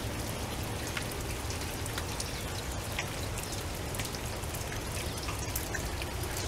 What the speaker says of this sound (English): It's raining and I'm in my stocking feet